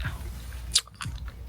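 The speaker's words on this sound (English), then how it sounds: "It's hard. I can't chew on it." Someone bites down on a hard green kiwi-flavored candy ball, with close, quiet crunching and chewing and one sharper crack in the middle.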